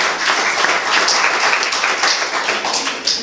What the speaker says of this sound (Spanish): Le damos un fuerte aplauso a Cristo por eso.